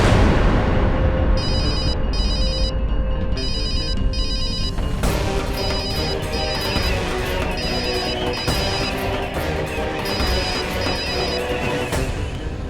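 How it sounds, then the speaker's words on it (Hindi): A telephone rings in a Hindi TV drama scene, its electronic ringtone repeating in steady bursts over a loud, dense music bed that continues throughout. "मत उठा उसका फोन।"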